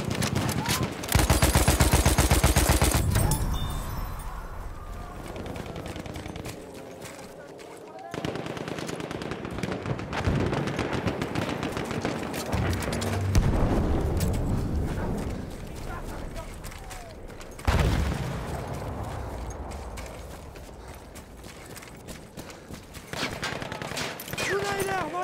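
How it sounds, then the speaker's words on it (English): Enemy machine gun fire rattles in long, loud, rapid bursts in a video game with a motorcycle, alongside other gunfire, engine-like noise and voices talking over the action. "It's an enemy machine gun!"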